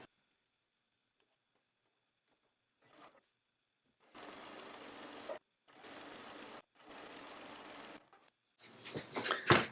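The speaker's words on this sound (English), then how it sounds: "I'm going to trim my seam allowance because I used a sewing machine." A sewing machine stitches fabric for a sew-along project in three distinct bursts of rapid, whirring mechanical chatter separated by short pauses, close and clear with no talking, followed by some handling clatter.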